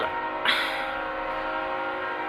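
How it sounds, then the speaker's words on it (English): A train passes close by, a loud sustained horn blast cutting in over the steady rumble of rail cars. "Do I hear the train this much?"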